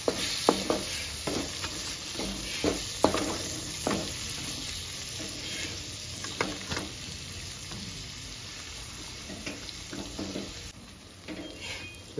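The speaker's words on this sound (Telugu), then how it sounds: "టమాటాలు వేసుకుంటున్నా." Chopped tomatoes drop into a hot pan and sizzle steadily, with repeated close scrapes and clinks of a spoon stirring them as they fry.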